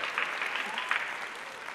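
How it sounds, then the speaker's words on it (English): A fairly faint, steady round of clapping rises from the audience at a gala for first ladies held by a fashion charity, holding through a short stretch. "So let's give ourselves some applause."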